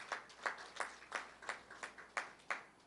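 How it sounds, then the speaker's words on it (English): A small audience at a Rotary Club event claps in a round of applause, about eight distinct sharp claps spaced at a steady rhythm, soft and somewhat distant. "I think we all should give the entire Rotary team a round of applause."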